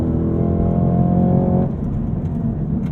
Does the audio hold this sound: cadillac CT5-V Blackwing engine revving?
yes